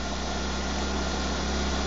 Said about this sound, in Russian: Так звук намного приятнее, чем у низкого двигателя.